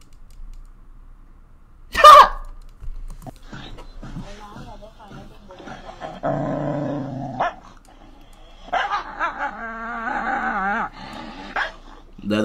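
A dog in a short comedy clip barks and growls in sharp bursts, with a loud yelp near the start, mixed among voices talking.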